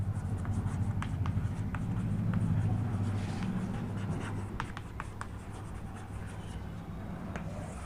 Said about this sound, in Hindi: तो पहले टेंस का नाम लिख देते हैं